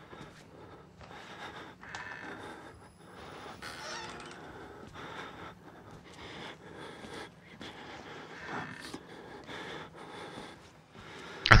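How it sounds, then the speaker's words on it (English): The player character in the horror game Outlast breathes heavily, with repeated short, ragged gasps and snorting breaths in an uneven panicked rhythm, close and fairly loud. "Can you hear the breathing of my character constantly?"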